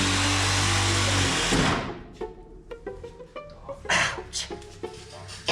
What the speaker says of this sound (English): Let's grab a Sawzall and we'll make this fit.